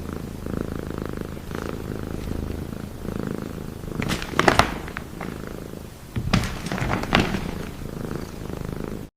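A playful cat purrs steadily and close throughout, a soft continuous rumble, with a few dull thumps of handling or movement around the middle and again later.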